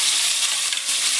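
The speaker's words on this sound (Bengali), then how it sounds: "আর এই সবজিগুলো হালকা করে একটু ভেজে নেবো পনিরের সঙ্গে" Vegetables and paneer fry lightly in a pan, a brief, close, steady sizzling hiss with no voices.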